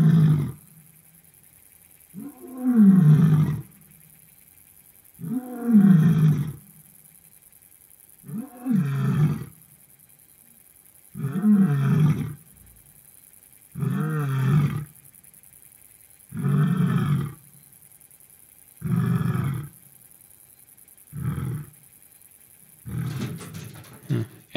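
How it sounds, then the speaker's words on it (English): A lion in the Kalahari roars in daytime, a series of about nine deep, powerful bellows spaced a few seconds apart with quiet gaps between, close and loud, no speech. "It's actually rare for Suga to roar during the daytime."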